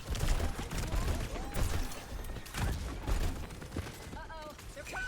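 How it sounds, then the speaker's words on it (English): Gunfire in a video game, scattered bursts of shots and thuds in an irregular rhythm, with voices talking over parts of it. "I'm shooting fucking everywhere."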